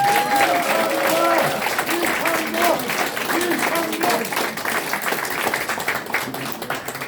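Audience applause after a candidate's announcement at a cramped press conference for a Hanam district People Power Party chairman, steady dense clapping for about seven seconds, with voices mixed in underneath.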